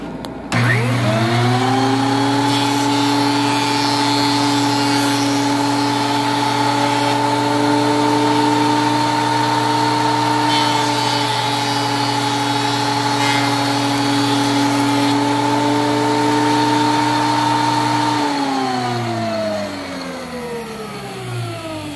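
Big heavy wood planing machine running steadily while planing a flute blank, a loud sustained motor drone with a hum that holds level and then winds down near the end.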